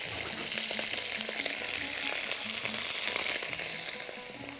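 Sausage browning in a hot pan for couscous with sausage: a steady, close sizzle and crackle of frying fat runs throughout, with small pops and occasional stirring sounds.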